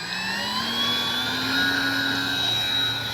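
A Dynam F6F Hellcat RC plane flies a speed trial, its motor giving a steady, loud electric whine whose pitch drifts upward as it passes, with no voices.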